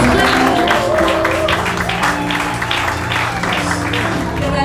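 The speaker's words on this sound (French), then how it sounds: "Acclamons encore le Seigneur," A church congregation applauds and cheers together in a dense, loud wash of clapping that goes on without a break, mixed with voices and music.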